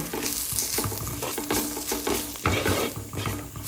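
Chili and turmeric powder worked into a fish curry base in a hot pan, a spoon scraping busily and continuously through a loud, close sizzle of frying oil.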